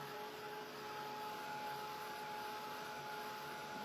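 A hair dryer blows a steady, even whir for the whole stretch, drying fresh Fusion Mineral Paint on a furniture piece before decoupage, with no talk over it.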